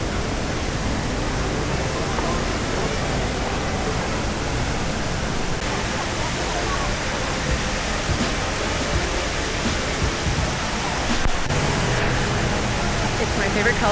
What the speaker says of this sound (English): The iconic, largest waterfall indoors in the world.